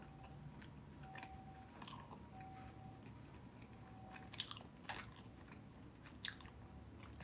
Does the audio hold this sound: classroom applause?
no